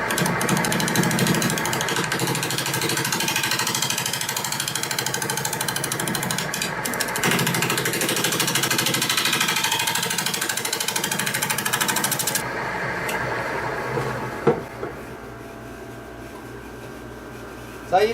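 A wood lathe turns a green wood vase with a loud, steady whirring drone and a rough rattle for about twelve seconds. It then spins down, leaving quieter handling sounds and a couple of sharp knocks.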